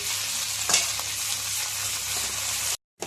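Tomato fried with ginger garlic paste for chicken pulao sizzles loudly in hot oil, a close steady crackle with a brief stir, ending in a short cut of silence.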